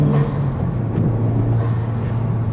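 A Honda Civic Type R FL5 fitted with an Armaspeed intake rumbles steadily up close, and a brief hissing turbo blow-off burst cuts through the engine drone.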